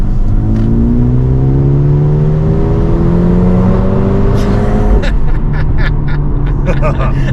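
A Mercedes-AMG A35 accelerates hard in third gear, heard from inside the cabin as a loud engine note climbing steadily in pitch for several seconds before a shift, with people talking over it.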